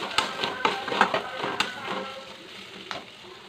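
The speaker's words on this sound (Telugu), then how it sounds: "కోడిగుడ్లు వేసుకుని" Eggs frying in a pan for a coconut drumstick curry give a moderate sizzle with scattered crackles and spatula taps that fade to a softer, quieter hiss.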